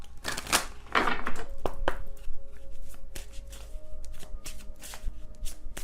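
A Secret Moon Oracle card deck being shuffled close by, crisp riffling bursts followed by lighter flicks and taps of cards, alone without speech.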